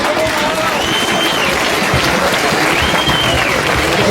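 Loud, steady applause from a live audience at an Arabic poetry duel, dense and continuous throughout with a faint voice mixed into the crowd noise.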